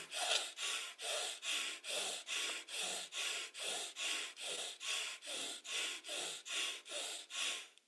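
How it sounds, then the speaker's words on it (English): Bhastrika pranayama fast breathing, sixteen forceful, evenly spaced breath pumps through the nose, close and loud, keeping a steady brisk rhythm of roughly two per second with no talking. "a sequence of Bhastrika pranayama, which is fast breathing like this"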